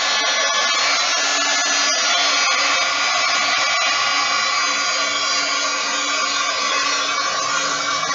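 A handheld hair dryer blows steadily and loudly over wet watercolor paint, giving a constant whooshing hiss that does not change for the whole stretch.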